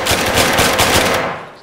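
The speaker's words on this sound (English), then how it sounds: "Eyes on heavy machine gun." Heavy machine gun fire in the military shooter ArmA 3: a steady, loud, rapid stream of shots for over a second, then trailing off into a fading echo.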